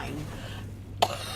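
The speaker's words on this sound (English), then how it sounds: "every time I start coughing, it sounds like I'm like actively dying" A person coughing hard and harshly after more than a week of illness, a short burst of a couple of rough coughs breaking out of quiet room noise, close and loud.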